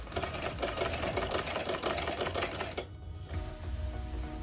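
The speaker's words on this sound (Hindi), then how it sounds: "अब हम ये गले में सिलाई लगा चुके हैं।" A sewing machine stitching the neckline of a child's jhabla runs at a fast, steady clatter for about three seconds, then stops and leaves quieter handling sounds behind.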